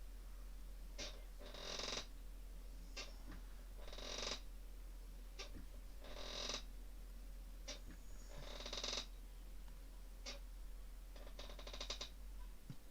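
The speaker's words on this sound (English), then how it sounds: "Best part is my squeaky chair now sounds like it's part of the boat." A squeaky chair creaks in repeated drawn-out groans, each lasting about a second and spaced every couple of seconds, quiet over a steady low hum with no voices.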